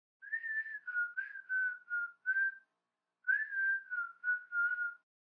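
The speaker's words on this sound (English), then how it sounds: "Arthur comes home whistling a song that I can't identify." An animated aardvark boy whistles a tune in two clear phrases of several sustained notes each, separated by a short pause, alone with no other sounds.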